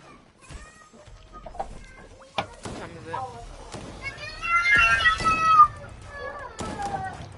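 A cat yowls and meows loudly near the middle, its cries rising over a noisy room where people talk and shout; chicken-like clucks may mix in.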